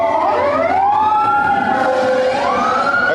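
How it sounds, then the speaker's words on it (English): An emergency vehicle siren wails loudly and close by, its rising and falling tone sweeping steadily as the vehicle drives right past on the street outside a German bar, filling the whole moment with no talk. "you hear a siren"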